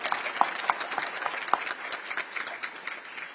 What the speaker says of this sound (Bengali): আমরা সকলে মিলে আপনাদের জন্য একটা বড় করতালি দিয়ে আপনাদেরকে অভিনন্দন জানাই